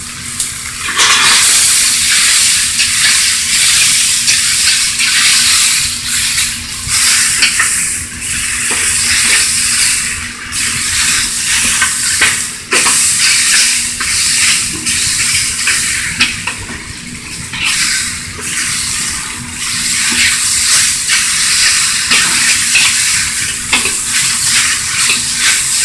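Beef and chow fun rice noodles sizzle and fry loudly in a hot pan, with steady stirring and occasional scrapes of a utensil against the metal throughout, close and continuous with no talking.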